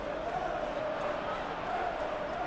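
A stadium crowd in a football video game sends up a steady, distant roar of murmuring fans with a faint sustained chant tone, continuous across the moment under light background noise.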